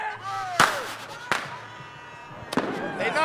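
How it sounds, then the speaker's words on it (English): Sharp gunshots ring out in a spaced series of three loud cracks amid a noisy outdoor scene, with faint voices and crowd sounds in between. "Not fireworks, them gunshots."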